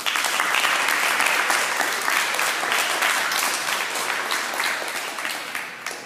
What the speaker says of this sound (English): We'd like to give you one more round of applause.